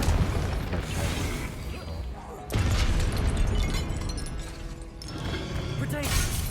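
Confringo blasting curse explodes in the Hogwarts Legacy video game during combat, a loud broadband burst over dense, continuous game noise with a sharp surge partway through.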